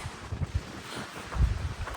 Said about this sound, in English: It is super windy right here